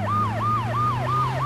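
An ambulance siren from the video game GTA 3 wails in rapid, regular rising-and-falling sweeps, loud and close, over a low engine drone.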